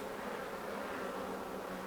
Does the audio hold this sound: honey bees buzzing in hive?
yes